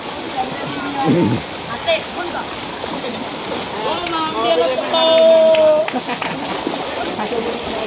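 Floodwater flows along a street in Cox's Bazar after heavy rain. Its rushing wash runs steadily beneath a person talking throughout, with brief louder swells of splashing.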